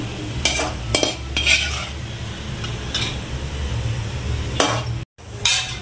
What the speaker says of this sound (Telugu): జీడిపప్పు కూడా ఫ్రై చేసుకొని ఇందులో వేసుకుందాం.